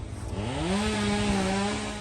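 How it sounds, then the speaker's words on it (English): Chainsaws cutting down weedlings in the morning give a steady, moderately loud motor drone whose pitch rises and holds as the engine revs, with no talking over it. "the sound of chainsaws in the morning"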